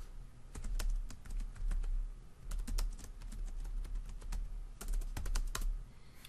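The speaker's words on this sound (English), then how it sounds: "If I can type here." Quiet, steady keystrokes on a computer keyboard tap out in irregular bursts while someone enters an expense reimbursement, with short pauses between runs of typing and no talk.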